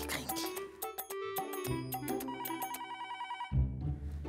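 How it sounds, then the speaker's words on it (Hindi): A telephone bell rings loudly and continuously in an indoor home scene, its rapid metallic trill layered over background music with no speech. "जा बिटिया फोन उठा के देखता कौन का है।"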